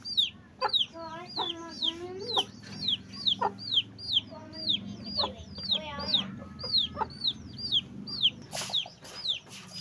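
Chickens and a rooster clucking and squawking in a farmyard pen, a steady run of close, overlapping calls with a rising crowing-like cry near the end, fairly loud and continuous over low background noise.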